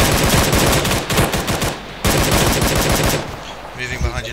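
Sustained automatic rifle fire in the military shooter Arma 3, loud and close, with rapid bursts that pause briefly and then resume before tapering into fainter, scattered shots.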